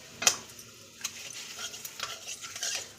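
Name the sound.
five-spice and bay leaves added to hot oil, sizzling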